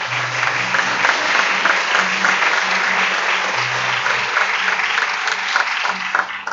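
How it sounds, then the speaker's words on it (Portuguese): A church congregation applauds during a sermon, steady loud clapping throughout with a low hum or chord sustained underneath, no speech over it. "Vamos aplaudir o Senhor pelas células dessa igreja?"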